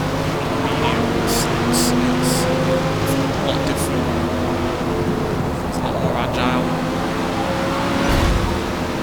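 A Corvette Z06 racing in Forza Motorsport, a steady engine drone held at high revs throughout, with a player talking over it.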